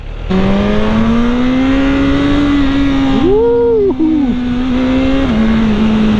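A 2018 BMW S1000RR motorcycle engine in sport mode roars loudly and close while accelerating through urban riding, its pitch climbing steadily with a brief rise and dip midway as it shifts and pulls hard.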